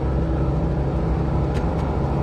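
A car engine just after shifting into second gear with a Nifty Shifter setup, a steady loud low rumble and whir throughout, no talking.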